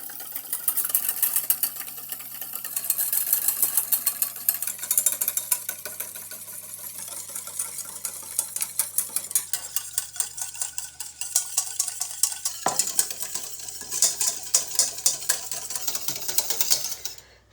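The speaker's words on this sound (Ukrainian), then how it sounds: "Збиваємо однорідну масу." Egg, salt and sugar are whisked into a smooth mixture for pizza and khachapuri dough, the utensil beating the bowl in quick, steady rhythmic strokes that run on without a break.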